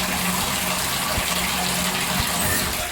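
Hot water pours from a tap into a tub in a constant loud, close rush and gush that never lets up.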